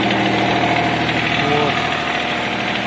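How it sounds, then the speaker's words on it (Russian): A Mitsubishi MT170 mini tractor idles in neutral with a steady, loud, continuous engine drone and faint knocking vibration running through the whole stretch, with no voices over it. "Ну, трактор стоит, чуть-чуть дадим газу."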